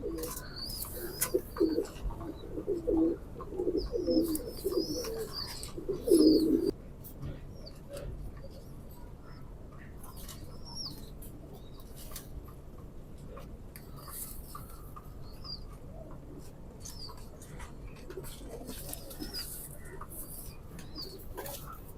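Teddy pigeon, a male bird, coos in a few low, rounded bursts during the first seven seconds, fairly close, before the scene settles into a quieter stretch with soft bird chirps and faint background noise.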